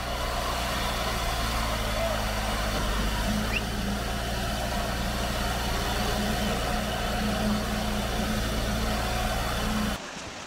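Concrete truck and cement boom pump running at a footing and foundation pour, a steady loud diesel drone with low rumble held throughout, dropping off abruptly near the end.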